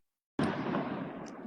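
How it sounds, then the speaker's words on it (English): A New Year's Eve firework goes off with a sudden deep boom after silence, followed by a sustained rumbling, crackling decay that stays loud through the rest of the moment. "See, the motherfucking firework, it was like bloop"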